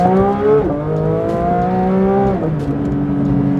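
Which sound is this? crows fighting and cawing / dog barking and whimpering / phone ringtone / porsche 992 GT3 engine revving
porsche 992 GT3 engine revving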